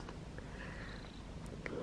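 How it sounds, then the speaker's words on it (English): A cat purrs steadily and close up, a low continuous rumble with no voices over it, while sitting beside a newly set-up ring light. "Mega purring."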